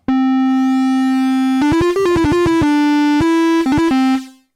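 A held, buzzy synth tone with a metallic edge, followed by a quick flurry of stepped notes up and down, then a sustained note fading out.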